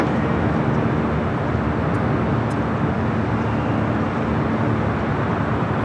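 A jet airliner near LAX fills the air with a loud, dense, continuous broadband roar that holds steady throughout, with no voices over it.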